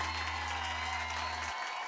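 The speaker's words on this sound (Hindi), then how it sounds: "लेकिन आज आपकी इस कविता के लिए हम जोरदार तालियां" Loud applause from a studio audience for a recited poem on a Hindi TV comedy set, steady dense clapping filling the whole stretch with no voices over it.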